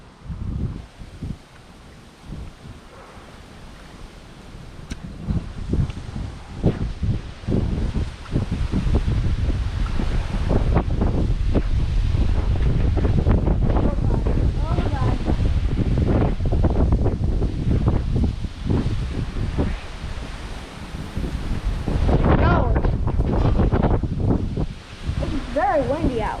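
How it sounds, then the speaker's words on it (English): Strong wind gusts during a lightning and thunderstorm, roaring loudly and continuously into the microphone with rustling leaves and shifting buffeting, close and harsh, dropping briefly before surging again. "Very windy out."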